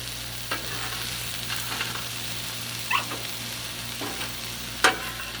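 Seafood stir fry of shrimp, scallops, calamari and greens sizzles on a griddle set to medium, a constant crackling hiss broken by a few sharp spatula taps.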